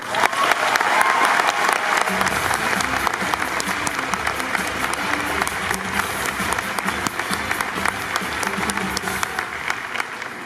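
A large crowd at the D23 Expo Disney Parks presentation breaks into loud, sustained applause welcoming Tom Fitzgerald, with dense clapping and some cheering holding steady for ten seconds.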